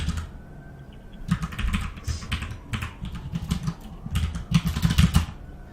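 Keys clatter on a computer keyboard in quick, uneven bursts of typing, close by over a low steady background hum.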